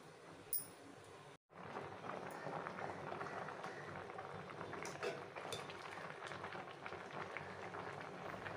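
Soaked basmati rice boiling in water in a pot for raw prawn biryani: a steady, close bubbling hiss that runs on after a brief gap near the start.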